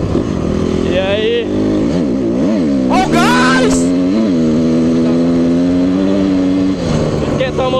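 Dirt bike motorcycle engine warming up on a trail, loud and close, idling with several rising and falling revs, while a voice talks over it.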